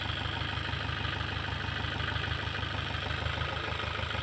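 Engine of a farm cart in a cassava field idling, a loud, steady, close rumble with an even rapid chugging pulse, unbroken and without talking.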